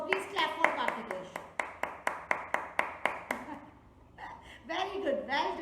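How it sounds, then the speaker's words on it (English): Children clapping in an online class, about a dozen evenly spaced, close claps heard over a laptop connection, with young voices and chatter before and after. "All of you, please clap for Kartikesh."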